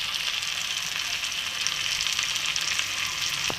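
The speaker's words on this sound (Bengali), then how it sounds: "দিয়ে সব একসাথে আবারও ভালো করে কষে নেব" Chicken and vegetables sautéing in a pan, a steady close sizzle and frying hiss that runs throughout, with an occasional stir.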